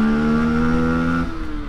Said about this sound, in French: vous entendez quand même que la moto fait un son pas mal